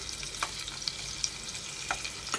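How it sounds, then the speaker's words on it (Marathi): Crushed garlic frying in hot oil in a pan for a Konkani fish curry, a steady close sizzle with occasional small pops and crackles, no voices. "तेल गरम झालं आहे आता आपण त्याच्यामध्ये ठेचलेला लसूण घालणार आहोत"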